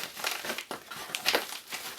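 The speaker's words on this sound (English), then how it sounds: "Let's get the trusty scissors on this, shall we?" Scissors cutting into the plastic and card packaging of a NECA Terminator 2 action figure, close crinkling and crunching with short snips in an uneven rhythm.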